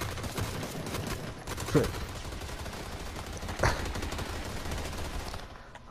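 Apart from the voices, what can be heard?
gunfire in the video game PUBG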